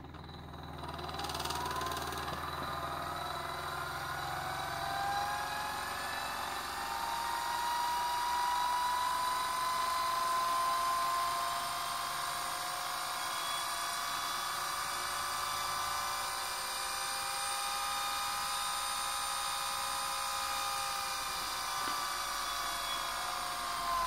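Small but powerful electric eBike or eScooter motor driven at low speed by a PWM controller, a steady high-pitched electric whine with shifting tones, running continuously and alone at moderate level.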